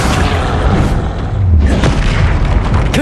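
Confringo spell explosions in the Hogwarts Legacy video game, loud booming blasts and crackling impacts overlapping densely across a few seconds of combat.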